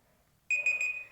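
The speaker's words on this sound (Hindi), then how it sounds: "Timer is on, 5 second left." A quiz countdown timer sounds an electronic alarm-style beep tone after a short silence, a bright sustained chiming pulse that starts abruptly and holds, clear and alone.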